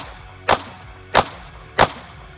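Three pistol shots during a dot torture target drill, each a sharp, loud crack spaced roughly two-thirds of a second apart in a steady rhythm, with no talking.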